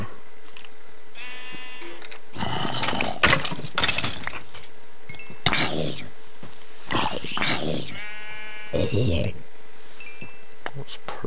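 Sheep in the video game Minecraft bleat repeatedly, wavering calls that come in several bursts, mixed with loud in-game clatter and a person talking.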